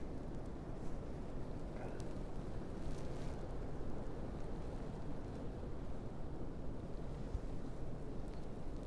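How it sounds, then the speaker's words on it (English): Steady wind buffets the microphone at the base of cliffs off the beaten path, a constant low rumbling roar that holds throughout with no talking. "Try to keep myself out of the wind a little bit."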